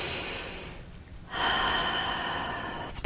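A person breathes in through the nose and then lets out a long, steady exhale through the mouth, close and clear with a brief pause between the two breaths.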